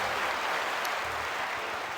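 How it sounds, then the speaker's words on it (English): A short burst of applause, many hands clapping steadily and evenly for about two seconds. "Let's get a hand clap."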